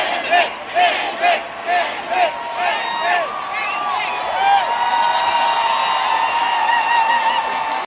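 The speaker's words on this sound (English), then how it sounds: "the crowd gave him a standing ovation for the King of Canada" Large concert crowd at a show in Toronto roaring and cheering, with loud whoops and shouts that swell into a sustained wall of crowd noise.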